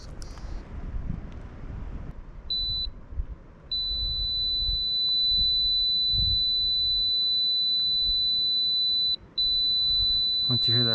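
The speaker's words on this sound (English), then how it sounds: "Once you hear that beep, good, you can double check." Steady high-pitched electronic beeping from a locator: a couple of short beeps, then a long sustained tone with a brief break, over faint outdoor wind noise.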